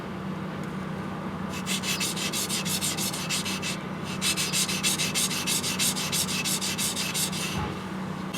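A sushi chef's knife is sharpened on a natural whetstone, with close, rhythmic back-and-forth rasping strokes in steady bursts and a short pause midway. No voices are heard.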